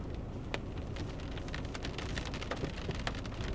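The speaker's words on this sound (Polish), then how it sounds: "I pada" Rain falls outside a holiday cottage in the Lake District, a soft, constant patter with scattered louder drops striking nearby surfaces, quiet and unbroken.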